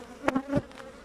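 Honeybees buzz on the comb of a hive, a close, short hum with a couple of louder buzzing swells over a faint background drone.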